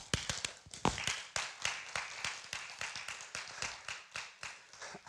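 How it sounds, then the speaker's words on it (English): Church congregation clapping in a steady, rhythmic beat, sharp regular claps repeating at an even pace, moderately distant and without voices. "We got to clap."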